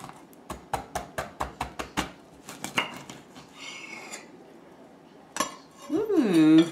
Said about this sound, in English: I've never cut a pomegranate, but here goes.